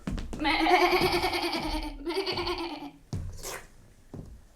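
A performer in a French theatre workshop imitates a lamb's bleat during a fable, a long wavering voiced cry lasting about three seconds, loud and close, followed by a short breathy sound.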